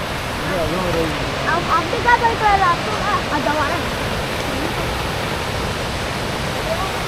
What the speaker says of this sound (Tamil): மினி ஃபால்ஸ் மாதிரியே இருக்குங்க.